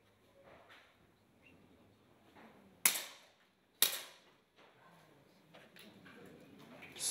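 Two sharp, close cracks from 10m air pistols, about a second apart, ring out at a women's P2 world shooting championship in 2014, over a quiet hall murmur with faint background voices.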